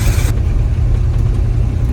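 A 1974 GMC Suburban engine rumbles steadily at close range while driving, a deep low drone with a brief brighter burst at the start, no voices.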